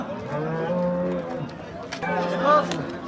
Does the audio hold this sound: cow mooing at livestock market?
yes